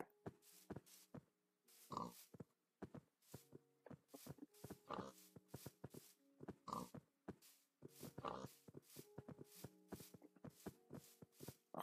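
Pigs oinking in Minecraft: a string of short grunts repeating through the scene, over light tapping of footsteps.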